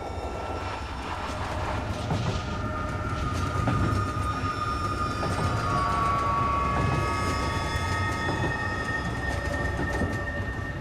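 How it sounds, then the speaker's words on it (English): A train rumbles steadily across the Siberian landscape, a continuous loud rolling drone of wheels on rails with faint metallic squeals and tonal whines rising over it, no voices. "the train as it rumbled across the Siberian landscape"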